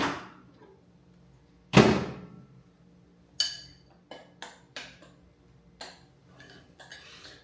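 Spoon stirring food in a bowl between microwave heating bursts, heard as a handful of separate clinks and scrapes, one louder knock near the start followed by several lighter taps, with no talking.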